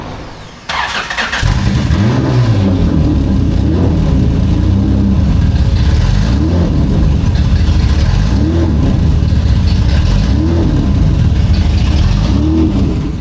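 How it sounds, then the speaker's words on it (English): A Mazda NB Miata with a J-series engine swap runs loudly and close by after starting, its idle surging up and down in a repeated rough rise and fall, with no talking. "we have fired it up, and it sounds okay. It doesn't idle the best. It jumps up and down"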